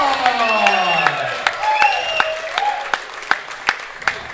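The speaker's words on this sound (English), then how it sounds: "a big round of applause for our winner in the Livingston Steel Challenge match, Ric" A crowd at an 8-ball pool match applauds the winner, many hands clapping in a steady patter, with sharp individual claps standing out over the continuous clapping.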